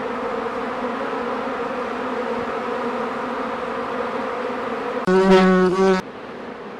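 Honeybees swarming around a Mini Plus hive box, a dense, continuous buzzing drone close by that stays steady, with a brief louder tonal burst near the end.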